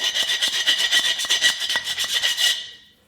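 A hand file rasps back and forth over freshly drilled holes in a Mastercraft engine stand part, steady rhythmic strokes about every tenth of a second, close and loud for a few seconds before stopping.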